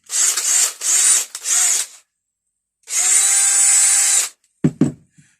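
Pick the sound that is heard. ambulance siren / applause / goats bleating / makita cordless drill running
makita cordless drill running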